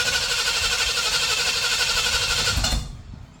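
Engine of a 1979 Ford F250 runs steadily and loud for a few seconds, then cuts out and dies away into near silence, with no voices.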